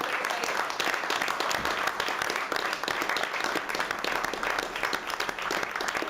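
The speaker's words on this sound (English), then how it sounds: "So let's give them a round of applause," An audience at a school board meeting applauds a school yo-yo club, dense continuous clapping from many hands that holds steady throughout at moderate loudness.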